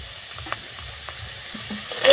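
Raw mango pieces sizzle in a hot wok, a faint, steady hiss broken by a few small pops and ending in a brief, louder burst of sizzling.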